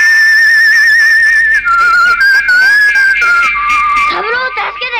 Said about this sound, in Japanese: さらにマサルがホイッスルの笛を鳴らすと